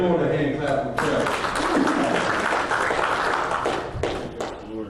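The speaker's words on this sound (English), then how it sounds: "give Lord a hand clap and pray" A church congregation claps hands during prayer in a service, a dense sustained wash of applause that continues for several seconds with voices mixed in before tapering off.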